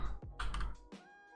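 Typing on a computer keyboard: a brief flurry of a few close, crisp key clicks, then quiet.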